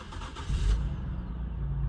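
An Infiniti Q50 with a fault that makes it stall cranks briefly and catches, then settles into a low, steady idle close by.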